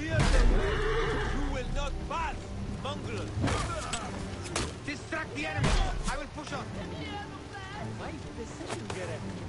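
A horse in the game Assassin's Creed Origins neighs and whinnies several times over hoofbeats, with thuds and combat noise around it. Voices talk throughout.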